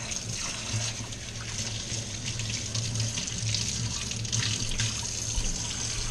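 Kitchen tap runs steadily for several seconds as a knife is washed under it, a constant close splash and hiss of water in a sink with faint clinks.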